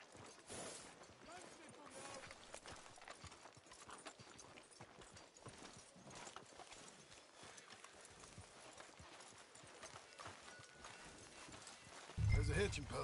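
In Red Dead Redemption 2, horse hooves clip-clop steadily at a walking pace through the whole stretch, fairly quiet, with a louder thump near the end.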